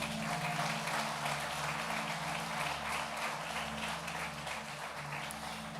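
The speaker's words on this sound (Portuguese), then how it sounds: "Aplauda Jesus por isso." A church congregation applauding during a Portuguese-language sermon, a continuous dense patter of many hands clapping heard from within a reverberant hall, over a low sustained musical hum.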